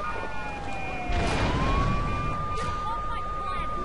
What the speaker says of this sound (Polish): bo tutaj ta policja nas goni.